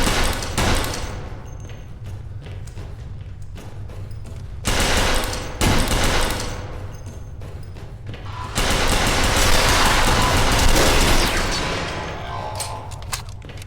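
Video game gunfire heard through a gaming setup: dense, loud bursts of automatic fire and booms that keep going, with short lulls, a heavy, continuous barrage.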